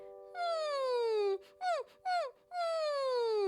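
A voice imitates a puppy's whimper: a long falling whine, two short rising-falling yelps, then another long descending whine, close and clear.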